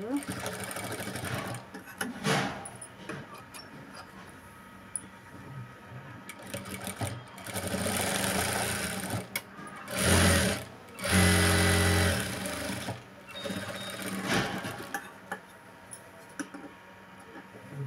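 An electric sewing machine runs in short bursts while stitching the seam of a blouse lining. It is close and buzzing, with pauses between runs, and a voice talks quietly between and over the stitching.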